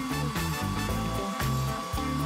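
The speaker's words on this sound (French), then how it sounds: "Il me faut un sèche-cheveux pour ça." A steady, loud whooshing drone of a hair dryer blowing continuously, with a constant whine running through it and no voices.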